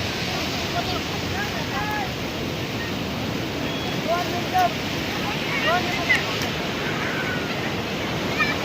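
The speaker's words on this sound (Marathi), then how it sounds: "पाऊस चालू आहे आणि समुद्र किनाऱ्यावर" Steady rain and sea waves wash over Ganpatipule beach, a dense, continuous roar of broadband noise with occasional small swells and gusty rumbles, no voices standing out.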